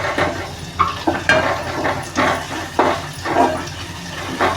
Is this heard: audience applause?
no